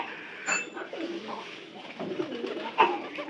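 A tall domestic pigeon suffering from a cold coos softly in a few low, rounded calls, close by and without talk.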